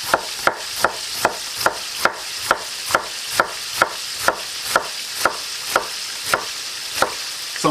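A knife slices white cabbage thinly by hand on a cutting board. About sixteen crisp, close, even cuts follow one another at a steady rhythm, with no talk.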